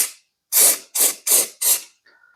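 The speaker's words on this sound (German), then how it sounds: "dann kann man hier noch das Fett drüber sprühen. Also quasi das Fluidfilm." Four short aerosol bursts of Fluid Film grease hissing onto a Vespa LX scooter, each lasting about a third of a second with brief gaps, close and fairly loud, followed by a faint trailing hiss.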